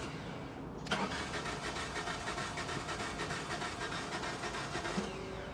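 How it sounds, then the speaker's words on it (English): A 2003 Toyota Matrix XRS with a 2ZZ engine cranks and tries to start: a sudden loud burst of rapid starter-driven chugging that runs steadily for several seconds without catching, close to the microphone. "It sounded like crank. it sounded like it wanted to start."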